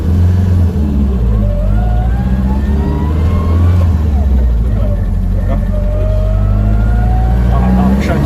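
A BMW 320i E21 with a MOTEC M4 engine management setup revs hard under acceleration, a loud, close engine roar climbing in pitch as it pulls, with someone talking over it.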